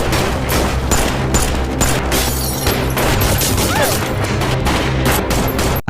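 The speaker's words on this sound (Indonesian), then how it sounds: "Kemudian adegan tembak-tembakan pun kembali terjadi" Rapid gunfire crackles through a gangster film shootout, dense overlapping shots in a loud continuous barrage with brief gaps, ending abruptly.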